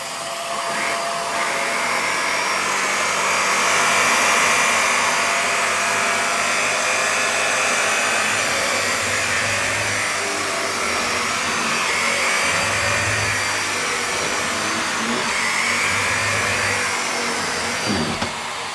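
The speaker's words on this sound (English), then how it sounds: "see, it's a good suction on it. It actually pulls up the carpet as well." A VAX Air Stretch Pet Max upright vacuum cleaner runs steadily on carpet, giving a loud, continuous motor whine and airflow roar throughout, with slight shifts in pitch as it is pushed back and forth.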